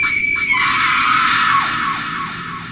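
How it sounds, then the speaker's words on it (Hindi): A woman in a haunted hotel room lets out a sudden, loud, piercing scream that holds high and strained, then falls away into fainter, echoing tails. "वो धीरे धीरे आईने की तरफ चलने लगती है और अचानक जोर से चीखती है"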